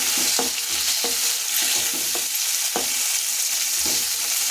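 Tomatoes and onions fry in a pan with a steady loud sizzle, broken by repeated scraping strokes as the mixture is stirred; no voices.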